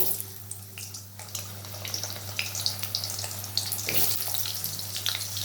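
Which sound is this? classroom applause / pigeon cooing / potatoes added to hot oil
potatoes added to hot oil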